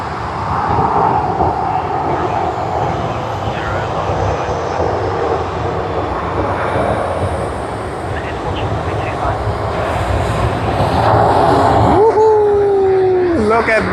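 A Singapore Airlines jet in Star Alliance livery at Sydney Airport produces a sustained engine roar at moderate distance, rising near the end, where a brief rising whistle-like tone cuts in, with voices talking throughout.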